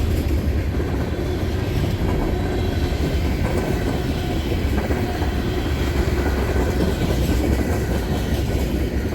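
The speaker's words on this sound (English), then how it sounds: "Tonight's train is powered unusually by 5 locomotives." A CSX freight train pulled by five locomotives passes close by on the former New York Central line, making a loud, steady rumble with faint wheel clatter and no voices.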